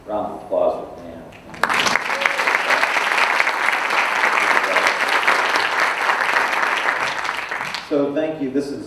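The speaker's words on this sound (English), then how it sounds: "Round of applause for Dan." Audience applause for Dan at a mindfulness in society conference, a sudden burst of dense clapping that swells and holds for about six seconds, with a speaker's voice before and after.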